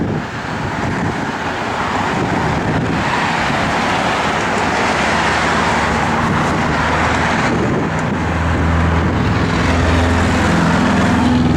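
A 1968 Plymouth Road Runner V8 engine runs steadily close by, a loud continuous rumble with a slight swell in the last seconds and no talk over it.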